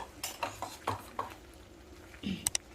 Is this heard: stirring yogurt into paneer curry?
yes